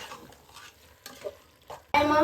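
Tomatoes, vegetables and masala for veg biryani are stirred in a pot, soft scraping spoon strokes with a faint sizzle, then a voice abruptly starts speaking at the end.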